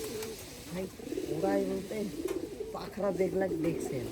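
Several pigeons at a home loft give repeated rolling coos in bursts, close and clear, while people speak faintly alongside.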